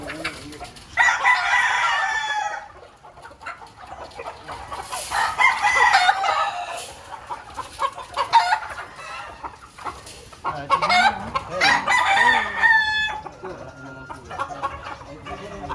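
Roundhead gamefowl roosters crow repeatedly, long raspy calls a few seconds apart, with hens clucking and a person talking nearby.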